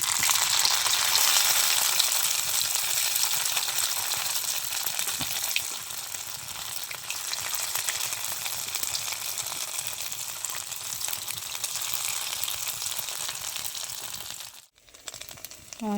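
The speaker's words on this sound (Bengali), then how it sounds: "আমি বেশি ভাজবো না, অল্প অল্প করে ভেজে নেব।" Paneer pieces fry in hot oil with a dense, continuous crackling sizzle, close and steady, dipping briefly near the end before resuming.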